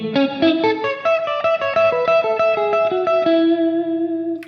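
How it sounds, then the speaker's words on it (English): Electric guitar played through a JHS 3 Series hall reverb pedal with the dampener turned fully up, a clean melodic run of plucked notes with a short, dark reverb tail, the final note ringing out alone. "if we bring the dampener up all the way, we'll get a shorter tail, it'll clamp down on that, and a darker sound as well"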